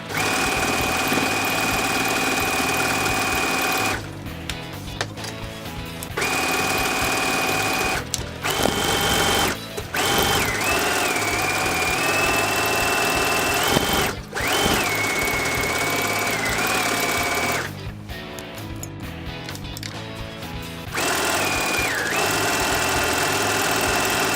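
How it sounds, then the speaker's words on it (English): A sewing machine runs a zigzag stitch around a satin bonnet, its steady motorized whir continuing in long stretches with brief pauses between runs and a few pitch shifts as the speed changes. No one speaks. "but I will normally do a zigzag stitch"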